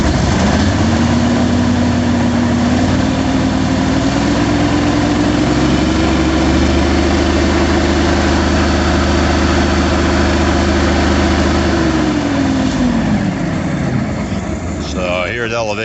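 Carpet cleaning truckmount engine idling with a steady low drone, its pitch rising slightly then settling back as the RPM is adjusted, loud and continuous throughout with a clatter near the end.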